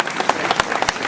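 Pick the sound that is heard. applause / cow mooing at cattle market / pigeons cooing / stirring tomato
applause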